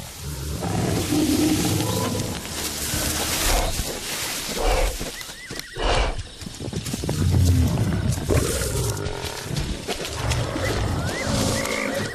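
A horned prey animal under attack by lions on the savanna gives a desperate bellow amid growling and roaring from the big cats, a loud, dense, chaotic struggle lasting several seconds with no talk.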